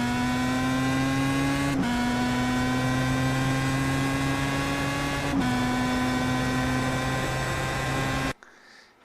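Pro Mazda race car engine in iRacing at Imola, a steady droning whine held near constant with two brief dips at gear shifts, loud and alone before cutting off at the end.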